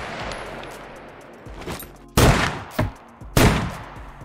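Gunfire in the video game SCUM, shot at walls: a low rumble of rapid shots builds, then three sharp, loud bursts ring out about half a second apart, with no talk.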